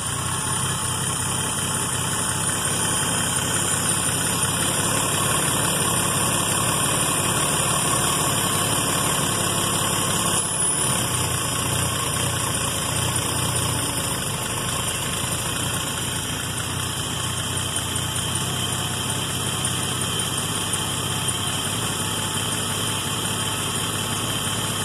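A 1979 Mercedes 280CE with a 2.8-liter engine idles steadily at close range, a constant low rumble that holds for the whole stretch, with no voices over it.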